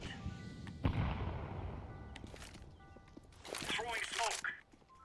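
A grenade blast in a shooter video game against kobolds with guns, a sharp bang near the start followed by scattered gunfire and rumbling, with a voice briefly speaking in the background.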